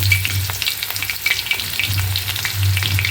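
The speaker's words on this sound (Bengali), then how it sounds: "তেলটা গরম হয়েছে এখন পেঁয়াজটা দিয়ে দিই" Onion sizzles in hot oil, a dense steady frying hiss with a low bubbling hum, close and loud, and no speech throughout.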